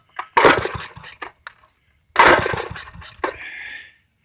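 A Briggs & Stratton small engine on choke cranks in two loud bursts of rattling, clattering turnover on a cold morning, with a short pause between attempts and a brief sputter at the end.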